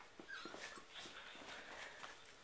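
Very young puppies whimper and yip softly in a run of thin, high, wavering cries, quiet and close, repeating irregularly over a couple of seconds.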